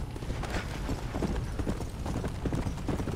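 Horse hooves clip-clop at a steady trotting rhythm in the video game Red Dead Redemption: Undead Nightmare, close and fairly loud over a continuous background, with no voices.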